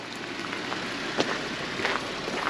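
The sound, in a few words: rain falling outdoors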